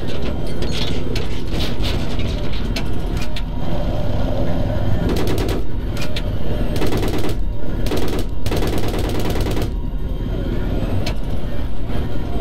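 Loud rapid bursts of Battlefield 3 gunfire with machine-gun rattles and single shots over a constant rumbling engine drone, voices faintly mixed beneath.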